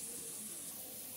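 Tap water runs steadily into a sink during household washing, a soft continuous stream with no voices, heard alone.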